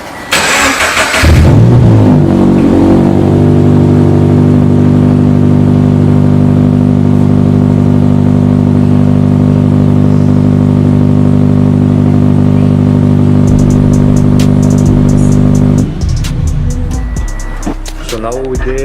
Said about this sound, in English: let's see how it sounds without the exhaust. Turn it on real quick.